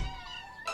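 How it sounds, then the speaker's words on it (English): Cartoon kittens meow in a continuous high-pitched chorus, with a louder, sharper meow bursting in near the end; no talking. "You be sure to find the kittens a good home, Tubby."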